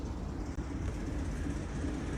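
Steady low rumble and rolling rattle from inside a moving train on a heritage railway near Buckfast, continuous and fairly loud with no voices.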